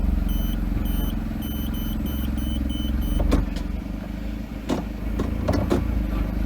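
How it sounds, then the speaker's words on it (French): Mercedes SLK under renovation idles steadily close by, with a handful of short throttle blips rising and falling over a continuous engine rumble. "je vais démarrer la voiture. Hop, et je vais mettre quelques coups de gaz"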